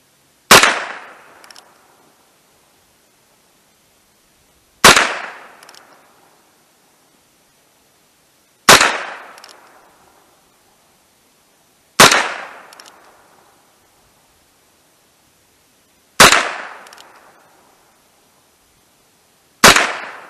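Six sharp gunshots from a Heritage Rough Rider .22 LR revolver with a 6.5 inch barrel, fired at a range at steady intervals of about four seconds, each a loud crack with a brief decaying tail.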